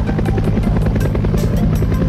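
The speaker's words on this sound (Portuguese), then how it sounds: "Veja como ele desce do helicóptero." A helicopter flies overhead, its rotor giving a loud, steady, rapid chopping thump over a dense engine drone that stays constant the whole time, with no voices heard.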